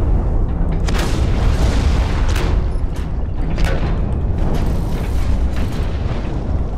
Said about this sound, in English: So I'm just throwing a bunch of grenades in.